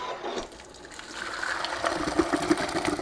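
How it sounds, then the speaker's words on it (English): Cooked elbow macaroni poured into a kitchen sink to drain, a rushing, splashing pour of water that builds louder and more gurgling toward the end, close by with no talk. "I'm going to take it over to the sink and drain it"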